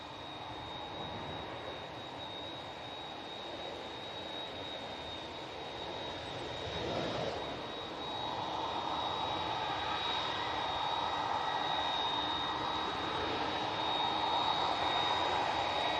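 Airliner on final approach to Manchester Airport, a steady jet engine roar in the distance that swells slightly and holds at a moderate level, with a constant high whine over it.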